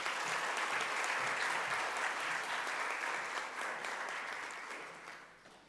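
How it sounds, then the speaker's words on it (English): A crowd at a high school prize-giving applauds steadily, dense clapping that holds for several seconds before gradually thinning and fading out. "If we can give this group a round of applause."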